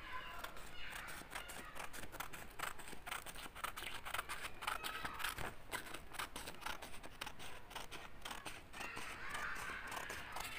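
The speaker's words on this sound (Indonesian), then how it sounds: "Okey, kita gunting yang ni." Scissors snip through paper while cutting out a piece for a home-printed poster: a long run of close, rapid, rhythmic crisp cuts with faint rustling of the sheet.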